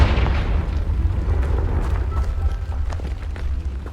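Booming Confringo explosive spell blast in the video game Hogwarts Legacy, a loud, deep explosion with rumbling low end that rolls on for several seconds, with crackling debris scattered on top.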